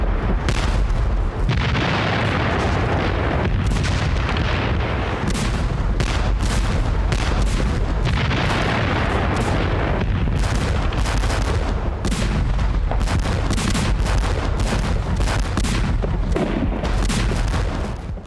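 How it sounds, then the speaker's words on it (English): Heavy artillery barrage: dense, continuous booms and crackling detonations overlap loudly for the whole stretch, a relentless rolling bombardment with no voices. "the final and heaviest barrage was unleashed"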